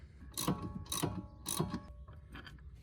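Ratchet wrench turning out a shock absorber bolt on a Ford Focus ST during a coilover install, giving three quick bursts of ratcheting clicks followed by a softer fourth, close and clear with no talk.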